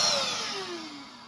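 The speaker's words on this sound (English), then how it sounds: "Thank goodness for the trusty vacuum." A vacuum cleaner used to clear dust and insects from screens while travelling on an outback trail runs with a steady whining drone that slowly falls in pitch and fades, close by with no voices.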